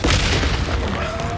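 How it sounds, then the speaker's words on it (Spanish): A pipe bomb explodes in the video game Days Gone, a loud, heavy boom with a deep rumbling tail that fades slowly over about a second and a half. "Pero tengo bomba de tubo, ¿a que sí?"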